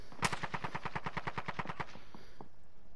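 Rapid automatic gunfire from the video game Warzone, a close burst of about fifteen evenly spaced shots over roughly two seconds, followed by two fainter isolated shots and then a quiet tail.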